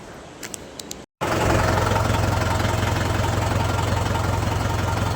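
A tractor engine runs while the tractor is stuck in a river, a steady loud mid-low rumble after a short cut near the start, preceded by faint clicks.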